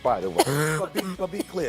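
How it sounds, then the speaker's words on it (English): A man coughs and clears his throat in a sports talk-show studio, with a few short harsh bursts breaking up steady close-up speech from the same talker. "You're just blessing me because I can't stop coughing."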